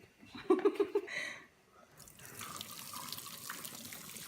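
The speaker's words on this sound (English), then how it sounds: "So we're going to take it out and we're going to drain them." Hot water poured off boiled plantains into a sink, a brief splashing gush near the start followed by a steady running trickle of draining water.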